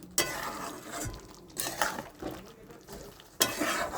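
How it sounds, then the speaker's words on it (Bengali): Chicken curry with nigella seed paste is stirred in a pan, producing a few soft, separate bursts of scraping and sizzling close by, with quiet gaps between strokes. "এবার আমি আরেকবারও নেড়ে দিচ্ছি।"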